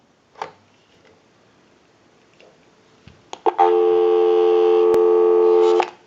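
Dial tone on the line of a Western Electric 302 rotary desk telephone after a few handset clicks, a steady loud hum lasting about two and a half seconds before cutting off.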